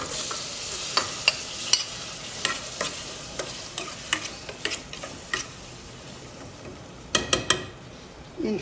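Meat browning with sautéed onions in a pot for Iraqi tajine, with a soft steady sizzle under sharp intermittent clicks and scrapes of stirring, close and moderately loud, no talk.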